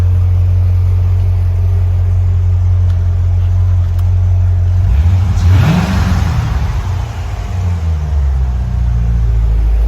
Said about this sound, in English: I'll give it a blip on the throttle so you can kind of hear it.